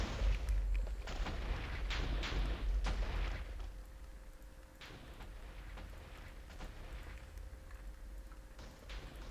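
Booming blasts from Minecraft TNT Games in Wizard mode, a cluster of heavy, rumbling explosions in the first few seconds followed by quieter scattered pops and thuds over a low background rumble.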